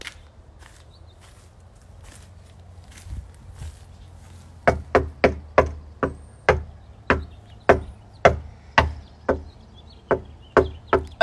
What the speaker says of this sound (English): I'm going to knock on her window.